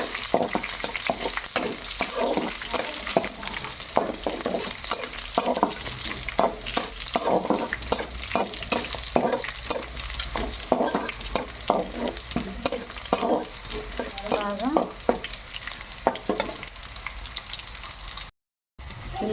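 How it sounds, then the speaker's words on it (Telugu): Curry leaves fry in hot oil for a puffed-rice uggani, making a loud, dense crackle and sizzle nearby, broken by repeated clatters of a spoon stirring the pan. "కరివేపాకు, బాగా వేగనివ్వాలి."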